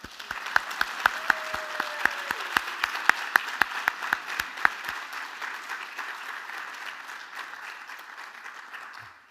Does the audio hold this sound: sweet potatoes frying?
no